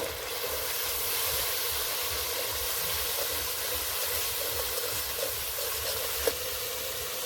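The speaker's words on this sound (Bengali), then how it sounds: "এবার ভালো করে কষে নেব" Coriander and cumin powder sautéing in a hot pan for an egg dish with coriander leaves, giving a steady, even sizzle that runs throughout with one small click near the end.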